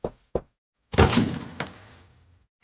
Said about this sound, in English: He walked up to the front door and knocked.